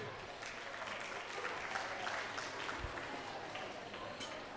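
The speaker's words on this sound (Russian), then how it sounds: "Ваши аплодисменты." Steady, dense audience applause as a singer takes the stage at a concert, a continuous wash of clapping from a large crowd, moderately distant and even throughout.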